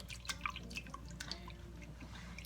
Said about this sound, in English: Just add another splash or two of milk.